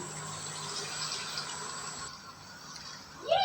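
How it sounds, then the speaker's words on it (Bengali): A quarter cup of water poured into simmering chicken roast gravy, giving a steady close splashing pour throughout, with a brief louder clatter at the very end. "এর মধ্যে দেব অনফোর্থ কাপ পানি"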